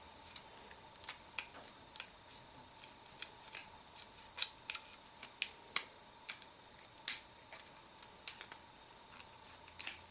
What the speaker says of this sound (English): So we're just cutting these 3 little